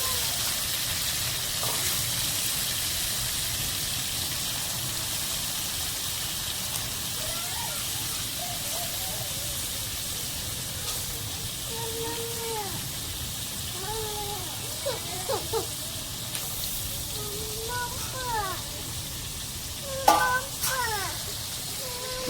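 Gunda (lasoda) fruit fries in a cooked masala gravy with a steady, even sizzle running throughout, while people talk intermittently and a voice is heard.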